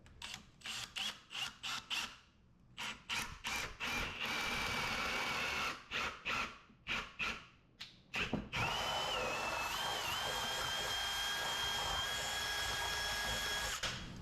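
A power drill with a 1/4-inch bit bores into deck wood, first in short whirring bursts with pauses, then running in one long steady high whine under load.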